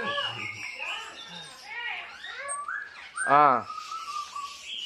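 An orange-headed thrush (anis merah) gives whistled, arcing calls, with a louder burst near the middle, mixed in with someone talking close by.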